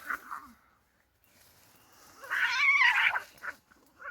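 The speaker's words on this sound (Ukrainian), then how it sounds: "Це наш котик сірий," A grey cat gives a short meow, then a longer, louder drawn-out meow up close, followed by a brief faint mew.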